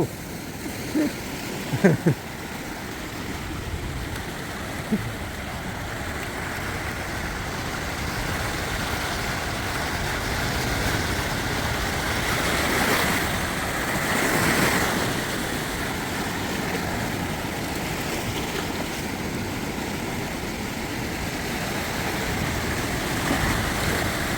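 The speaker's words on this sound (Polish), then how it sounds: "Fale, fale jak na morzu." Floodwater churning and surging below the Rånåsfoss dam on a flooded Norwegian river: a continuous broadband roar of rushing water with a few brief knocks early on, steady and fairly loud throughout.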